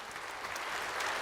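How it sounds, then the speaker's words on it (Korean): Church congregation applauding, a brief burst of dense clapping that holds steady and swells slightly toward the end. "박수 한번 해주세요."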